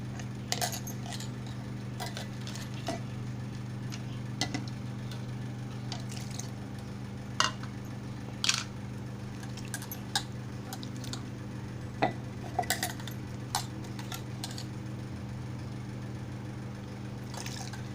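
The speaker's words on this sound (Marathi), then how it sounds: "आता आपण गाळणीने गाळून घेऊया" A ground crab shell mixture with water is strained through a sieve for a Malvani crab curry, giving quiet wet drips, taps and squishes scattered over a low steady hum, no voices.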